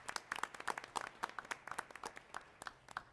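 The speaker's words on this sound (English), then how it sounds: "Yes, you can clap." Audience applause at a school district board meeting, a short burst of scattered hand claps from a smallish crowd, moderately quiet and uneven in rhythm.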